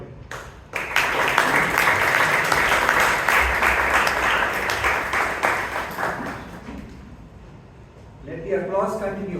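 After a speech at a Toastmasters club meeting, an audience breaks into loud, sustained applause that gradually thins out, followed by a person speaking.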